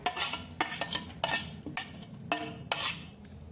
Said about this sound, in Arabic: وهقلب البصل كويس بالخلطة الحلوة دي